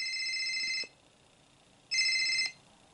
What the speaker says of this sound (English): Oh, it's a telephone ringing.